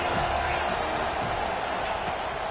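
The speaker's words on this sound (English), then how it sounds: "Third down, and this crowd is tearing the lid off this place." Loud stadium crowd at a college football game, a dense continuous roar of many voices filling the space, steady throughout with a commentator talking over it.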